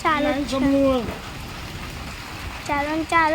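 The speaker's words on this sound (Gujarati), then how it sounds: "હજી વરસાદ ચાલુ જ" Steady rain keeps falling, a soft constant hiss under a voice as he speaks at the start and end.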